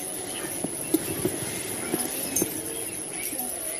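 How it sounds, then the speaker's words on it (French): Horses walk on a countryside road, their hooves giving an irregular clip-clop of distinct, moderately close thuds over a soft background. "Les chevaux d'ici sont magnifiques."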